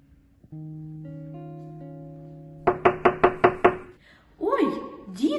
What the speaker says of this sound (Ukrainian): ви чуєте? До нас хтось стукає.